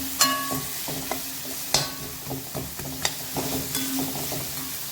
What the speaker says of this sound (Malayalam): നല്ലോണം ഒന്ന് നമുക്ക് ഫ്രൈ ചെയ്തെടുക്കാം